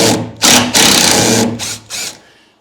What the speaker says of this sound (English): But now I can pull the screws out